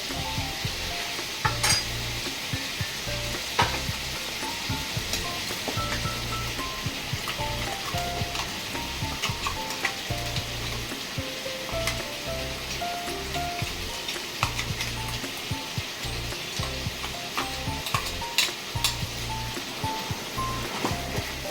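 Chicken curry sizzles steadily in a pan as ground masala is stirred in, with a constant loud frying hiss and intermittent scraping and clinking of a spoon against the pan, no talking.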